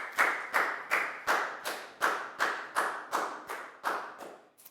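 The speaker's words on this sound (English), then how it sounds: "High five and a big round of applause for Pangpon, please, guys." Short burst of classroom applause from a group of children during a Year 4 maths lesson, about a dozen evenly spaced clap-like pulses close by, no talking.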